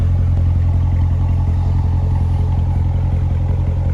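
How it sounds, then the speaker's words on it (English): A 2019 Chevrolet Corvette Grand Sport 2LT Convertible idles with a loud, steady, deep exhaust rumble close by, with no voices over it. "Nice rumble to the exhaust. Great sound."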